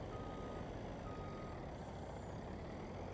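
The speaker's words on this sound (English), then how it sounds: "backup noises, backup alarm" Truck reversing beeps in Farming Simulator 19, a faint, steady backup alarm tone repeating over a constant low engine rumble.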